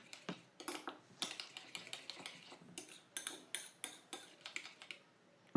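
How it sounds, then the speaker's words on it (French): A batter for cinnamon rolls is mixed until smooth in a bowl, with quick, close clinks and taps of a utensil against the bowl in a busy irregular rhythm. "je vais venir bien mélanger ce mélange jusqu'à obtenir un mélange bien lisse"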